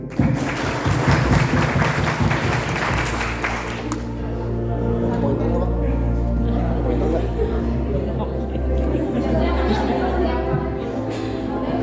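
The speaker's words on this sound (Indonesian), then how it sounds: "Teman-teman, berikan tepuk 10 kali." A group at a corporate retreat claps together in a dense burst of hand claps over the first few seconds, then gives way to a steady murmur of voices and background hum.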